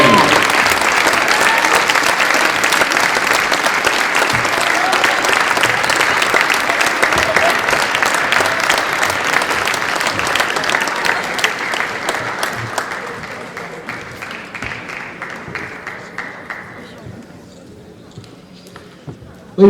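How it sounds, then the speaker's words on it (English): Loud, dense crowd applause fills a high school gym at a boys basketball senior night for seven senior players and their parents. It holds steady for about twelve seconds, then thins out and fades to near quiet. "Ladies and gentlemen, a big round of applause for the 7 senior basketball players and their parents."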